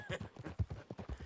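A horse's hooves clop in a steady, quiet rhythm in the video game Red Dead Redemption 2, soft repeated thuds of a walking gait.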